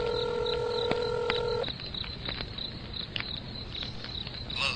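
A telephone is dialed in a radio drama sound effect, with a few clear tones at the start, then a steady chorus of crickets continuing alone.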